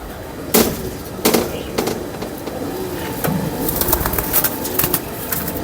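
Large breeding pigeons coo and flutter in a loft, with sharp wing claps and scattered bird calls close by over a steady background hum; someone speaks intermittently.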